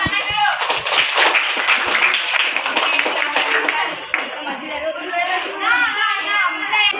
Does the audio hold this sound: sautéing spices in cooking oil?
no